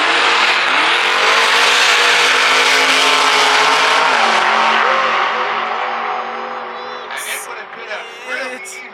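Fast car with a B58 engine accelerating hard in a drag race: a loud, rising engine roar sweeps upward through the gears, then fades as it pulls away, with brief high tire chirps near the end.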